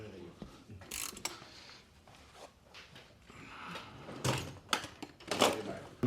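Tools working loose the bolts of an electric golf cart's control box, one bolt broken on one side: irregular metallic clicks, ratcheting and clanks up close, getting busier toward the end, with muffled talk in the background.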